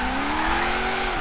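Tires squeal on a Nissan S15 drifting in Forza Horizon 3, a steady, loud, sustained screech with engine drone under it for about a second, with no talking.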